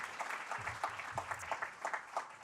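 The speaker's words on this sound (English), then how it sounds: "let's give her a round of applause" A forum audience applauds an Olympian heading to her fourth Games at the 2023 Australian Olympic Change-Maker National Forum. The clapping is steady and fairly quiet, sounding like a modest crowd heard from a distance.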